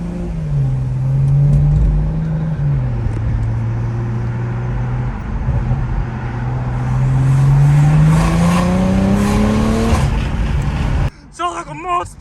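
A BMW M340i with a B58 engine, VRSF catless downpipe and inlet pipe rumbles loudly nearby, its exhaust tone rising and falling, swelling near the end before a sudden cut, while people talk over it.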